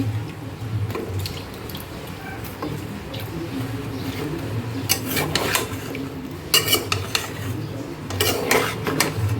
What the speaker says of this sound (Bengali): সবগুলো সবজি ভালো করে মশলার সাথে মিক্সচার করি নাড়াচাড়া করে